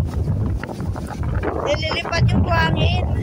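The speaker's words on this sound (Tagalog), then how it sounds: "Nililipat yung hangin." Strong wind buffets the microphone on open ground after a typhoon, a steady broadband rumble throughout with someone talking over it.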